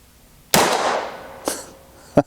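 A Smith and Wesson 29-3 revolver fires a .44 Special round outdoors in the cold, one sharp loud crack trailing off into a short echo, followed by fainter knocks and a final sharp click.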